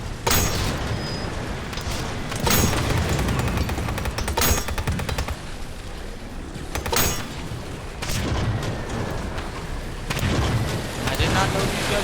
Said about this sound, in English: That was not a mortar. That was an anti-tank gun